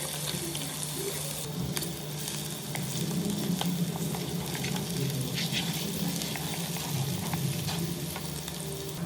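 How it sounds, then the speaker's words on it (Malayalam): Continuous loud sizzling of onion frying in oil, with occasional stirring clatter and crackle running throughout, no talking. "നീരായിട്ട് വറുത്ത് വെച്ചിട്ട് നമുക്ക് ഉള്ളി ആഡ് ചെയ്യാം"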